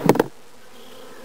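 Honey bees buzzing as an opened hive is worked during nuc installation, a short dense burst of buzzing up close that quickly fades to a faint background hum.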